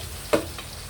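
Food browning in a pan on a home stove gives a soft, steady sizzle with one short, louder clatter partway through. No one speaks.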